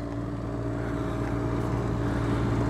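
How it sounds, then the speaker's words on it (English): An Onan 7500 diesel generator running on a 2002 Winnebago Itasca Horizon diesel Class A motorhome, giving a loud, steady, droning engine hum with strong low tones and no pauses. "it's got the 7500 Onan diesel generator, runs perfectly, I got it running right now."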